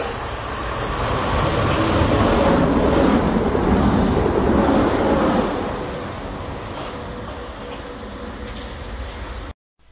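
A train rumbles past close by with rattling wheels and a faint squeal, loud at first then easing as it moves away before cutting off.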